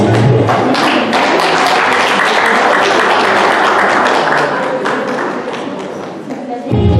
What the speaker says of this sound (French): Et la famille applaudit très chaudement.